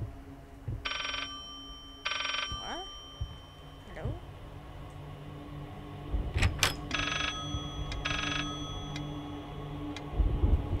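Telephone ringing inside the horror video game Layers of Fear, sounding in two short bursts of bell-like rings, then two more later, with someone talking in between and around them.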